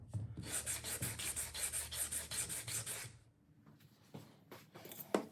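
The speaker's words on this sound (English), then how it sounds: "I like to go over all of the roundovers with 180 grit sandpaper just to even them out" Wooden roundovers are rubbed with 180 grit sandpaper in brisk, steady back-and-forth strokes for about three seconds, close and clear, followed by a few lighter scrapes and handling sounds.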